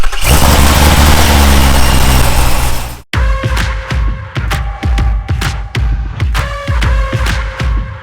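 A car engine cranks and catches, then revs repeatedly in sharp bursts over a steady idle, loud and close, with no talking.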